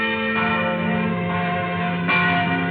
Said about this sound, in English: the bells were ringing